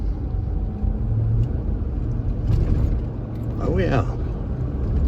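Ford F150 pickup truck being driven, low engine and road rumble from inside the cab, with someone briefly talking over it.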